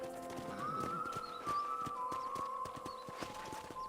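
Horse hooves clip-clopping in the Red Dead Redemption video game, a steady run of close, sharp hoof beats over a sustained musical drone.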